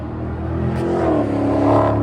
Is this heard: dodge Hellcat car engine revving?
yes